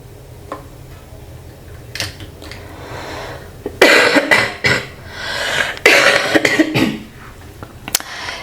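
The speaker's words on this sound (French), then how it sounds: "J'ai cette toux." Several harsh coughs from one adult, sharp and close, clustered in the second half with quieter ticks and breaths between them.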